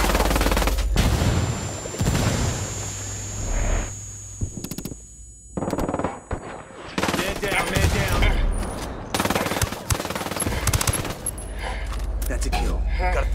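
Bursts of automatic gunfire and single shots from Ghost Recon Wildlands Ghost War multiplayer rattle in loud, uneven volleys, with a brief lull in the middle and a sustained tone underneath, while voices call out during the firefight.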